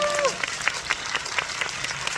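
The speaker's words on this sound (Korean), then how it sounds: "다 같이 박수 한번 보내주시기 바랍니다." Steady audience applause at a film talk event for the movie Love in the Big City, moderately loud and evenly sustained, with a faint voice heard briefly at the start.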